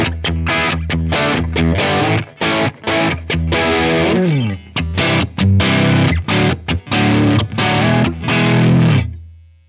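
Electric guitar through a Strymon Iridium amp modeler with all tone stack controls maxed plays distorted, gainy chords and riffs, loud and alone, in choppy strummed phrases with a slide midway.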